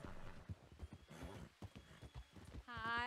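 Horse hooves clip-clop in a Western video game during a getaway, with a short whinny near the end, all under excited voices talking over the game.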